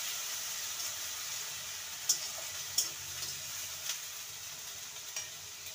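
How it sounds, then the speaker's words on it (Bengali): Ginger-garlic paste and chopped green chilies sautéing in a pan for a dhaba-style potato curry, a constant gentle sizzle with a few sharp scraping taps of a spatula, close by, no voices. "আদা আর রসুনটাকে ভালো করে কষিয়ে নেব।"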